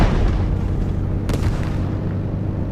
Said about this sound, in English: Oh, I hear the tank.